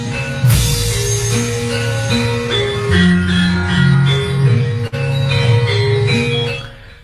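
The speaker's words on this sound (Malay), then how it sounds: "Dengar bunyi gong." Gong strikes recorded inside a house, ringing with long sustained metallic tones that overlap and decay across several hits, loud and close with no talking.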